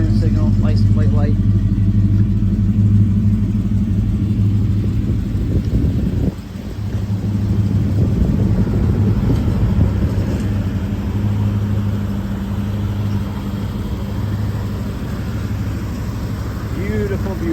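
A 1970 Chevrolet Chevelle Super Sport convertible idles with a deep, steady low rumble that runs throughout, with a brief dip partway through, while a person talks over it.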